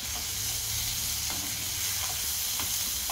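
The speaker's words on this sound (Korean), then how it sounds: "잘 볶아주세요" A sauce being stir-fried in olive oil in a hot frying pan makes a loud, continuous sizzle up close, with a few faint scraping stir strokes and no voices.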